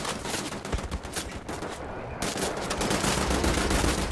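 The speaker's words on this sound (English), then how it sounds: "Ooh, dual wield assault rifles," Dual-wielded assault rifles in Wolfenstein: The New Order rattle off dense bursts of automatic fire, loud and close, with a short break before the shooting resumes.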